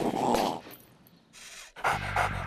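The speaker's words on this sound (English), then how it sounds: "This is a dog that likes to run in circles and yip and yap and bark and bounce and bite things." A hyper Jack Russell terrier yips and pants in short, loud bursts with a quieter breathy gap in the middle, close by and with no talking.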